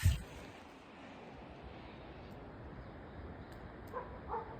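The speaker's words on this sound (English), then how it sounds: "I heard a dog start barking" A dog barks in the distance in the Sierra backcountry, faint single yips breaking through a quiet, hissy outdoor hush, with one sharper close sound at the very start.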